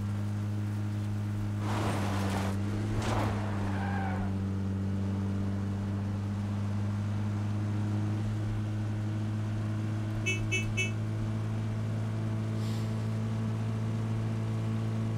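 A car driven in the battle-royale game PUBG on Erangel gives a steady low engine drone with a faint horn-like toot partway through; no one speaks.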